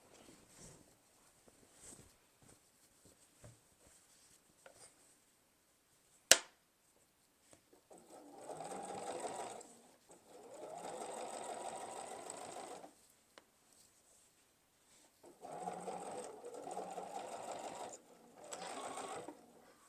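Sewing machine stitching quilt binding, close and fairly quiet, running in several short bursts of rapid whirring stitches separated by pauses, with a single sharp click partway through and no talking.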